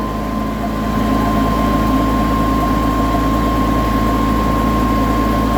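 A cold generator engine idles slightly high, steady and droning continuously at an even level, with a constant low rumble and a faint high whine running through it.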